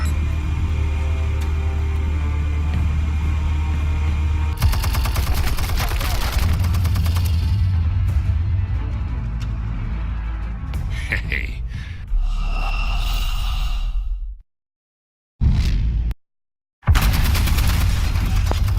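Gunfire in Batman: The Telltale Series, with dense booming shots and blasts over a heavy low rumble, loud and continuous before breaking into scattered impacts and brief silences.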